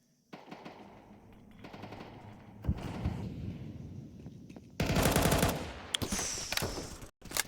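Counter-Strike gunfire during a pro match, with rapid automatic bursts through walls and single cracks, loud and dense, layered over game ambience with sharp bursts near the end.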